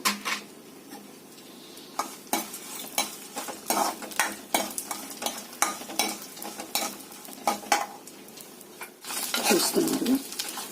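Chana dal and urad dal fry in hot oil with mustard seeds, giving a soft continuous sizzle broken by repeated ladle scrapes and clicks against the pan, with a louder stir near the end.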